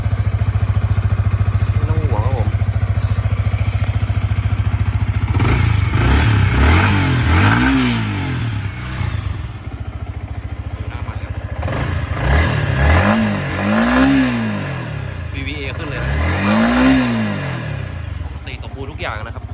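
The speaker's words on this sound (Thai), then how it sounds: "ฟังเสียงอะไรอยาครับ เดิมนุ่มเสียงเครื่องยังสมบูรณ์อยู่เลยนะครับ" A Yamaha MT-15 motorcycle engine idles steadily, then is revved up several times in rising and falling bursts, loud and close, with someone talking over it.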